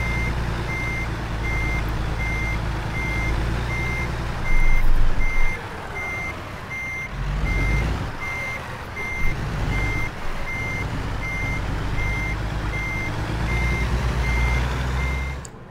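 Truck backing up with a trailer in American Truck Simulator, a steady reversing beep pulsing over a constant low engine drone, with brief louder surges of engine and air noise throughout.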